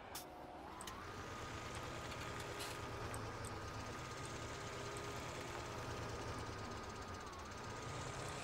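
A tractor engine in Farming Simulator 2017 runs at a steady idle, a low continuous diesel rumble with a faint rising whine, quiet and unchanging throughout.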